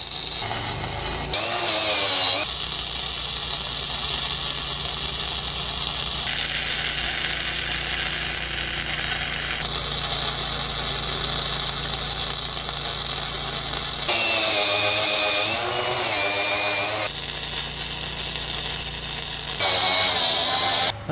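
Arc welding of the cap pass on a steel boat trailer's camper hanger, a steady loud crackling buzz running continuously, broken by brief pauses and bursts of sharper hiss.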